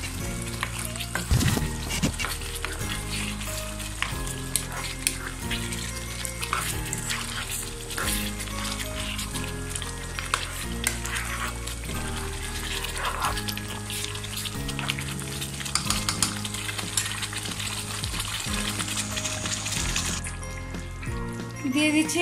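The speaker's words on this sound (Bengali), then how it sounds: "আমি আরো কিছুক্ষণ কষিয়ে নেবো" Coconut paste mixture sautéing in a pan, a steady soft sizzle and frying crackle that runs throughout under background music.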